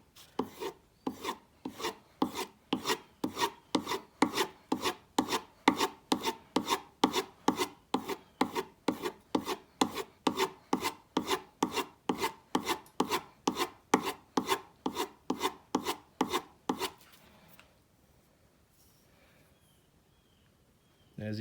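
A woodworking blade edge stroked on a sharpening stone to remove the wire burr, a fast, even rasping rhythm of about forty close strokes that stops abruptly, leaving quiet.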